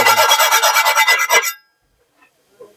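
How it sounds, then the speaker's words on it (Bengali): A knife rubbed hard across a cast iron pan gives a loud, steady rhythmic rasping of about ten quick strokes, then stops abruptly into near silence with a few faint ticks. "ছুরিও ধার দিতে পারবেন, আবার এটাকে ঘষে পরিষ্কার করতে পারবেন"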